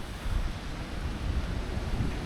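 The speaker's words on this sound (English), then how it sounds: "Wind's picked up again as well." Wind blowing and gusting around an Irish stone cottage roof on a rainy day, a steady broadband rush with low rumbling buffets across the whole stretch, fairly loud and close, with no voices.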